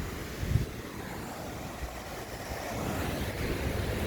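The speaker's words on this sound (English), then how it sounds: "these waves keep coming" Ocean surf rolling onto the beach beside the Pacific Coast Highway, a low steady wash with a soft thump near the start, mixed with wind and distant traffic rumble.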